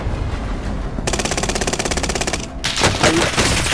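Rapid automatic gunfire in a shooting video game, a loud sustained burst of evenly spaced shots, followed by heavier blasts and noisy in-game chaos.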